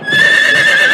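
A single loud, close horse whinny rings out, a sustained high neigh with a steady trembling tone that holds for about a second with no other sounds.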